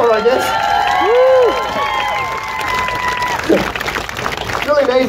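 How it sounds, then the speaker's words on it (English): A street crowd at the 2023 Halifax Busker Festival in Halifax, Nova Scotia cheers, whoops and claps for a circus act with a performer on a giant unicycle, loud and sustained over several seconds, with shouted voices rising above the applause. "I look out and there's a bunch of people that are like, yeah, cheering and clapping"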